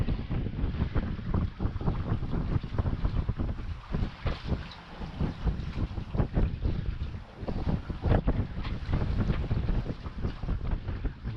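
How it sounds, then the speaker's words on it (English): Strong wind buffets a sailing boat on open water, a loud continuous roar with gusting surges and microphone rumble, no voices. "The wind is coming from my starboard."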